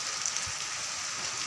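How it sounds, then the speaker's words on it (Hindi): Heavy rain pours down during a fierce storm with big, fat drops, a dense, steady hiss of water drumming on surfaces that fills the whole stretch with no voices. "आज तो तूफान बहुत बुरी तरह से आया और बारिश भी बहुत मोटी मोटी हो रही है"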